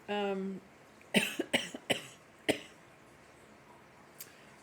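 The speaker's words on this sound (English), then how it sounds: "could be my flowers making me cough." Several sharp coughs, close by, in a short irregular burst with a pause and a final faint one, after a brief low hum at the start.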